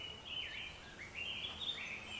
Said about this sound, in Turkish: Kuşların sesini duyuyor musun?